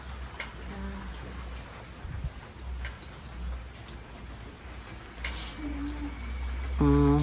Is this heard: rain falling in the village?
yes